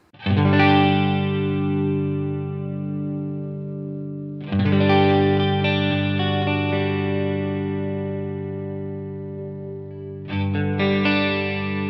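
A sustained, distorted electric guitar chord rings out through a four-voice chorus effect on a Line 6 Helix, with thick, shimmering modulation, struck three times and left to ring between strikes.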